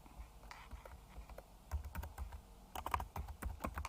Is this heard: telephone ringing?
no